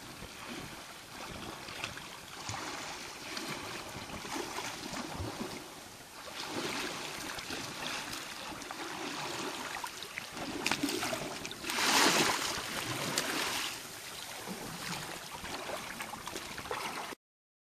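River current flowing steadily past a raft during an autumn float down the Meza river, a continuous broadband wash of water with some louder surges, no talk.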